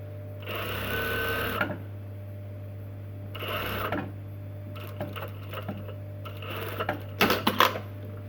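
A sewing machine edge stitches a trouser fly in short separate bursts of fast mechanical whirring, one after another, with a steady low hum running underneath and a few small clicks of handling between runs.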